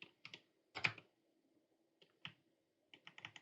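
A computer keyboard is typed on in short bursts, with clusters of crisp close keystrokes separated by quiet pauses.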